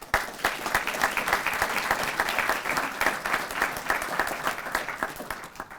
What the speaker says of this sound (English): So give Christine McKinney a round of applause.